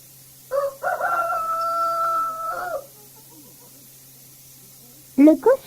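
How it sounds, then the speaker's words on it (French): A rooster crows once in a long, drawn-out cock-a-doodle-doo, clear and close, followed by silence and then a short voice at the end; a faint steady hum runs underneath. "Le coq."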